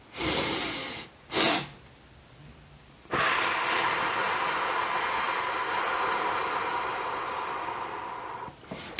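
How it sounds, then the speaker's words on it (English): Breathing exercise: two quick sharp inhales through the nose, then one long steady exhale lasting several seconds, close and clear with no talking. "inhale once through the nose, big inhale, and then another sharp inhale through the nose, and that will expand the lungs. And then one long exhale for as long as it takes"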